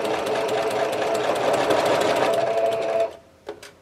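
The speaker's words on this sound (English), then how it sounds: "I'm using 1/4 inch seam and I'm going to sew up until I get to the" A sewing machine runs steadily, stitching a quilt block with a 1/4 inch seam, a loud continuous whir that stops abruptly near the end, followed by a couple of faint handling clicks.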